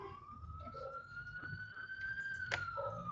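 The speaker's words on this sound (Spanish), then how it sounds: "esperan a que pase aquí la ambulancia o la policía, ya no sé qué es." A wailing emergency siren from an ambulance or police car passes nearby, a single steady rising and falling tone that stays clear throughout over low traffic rumble.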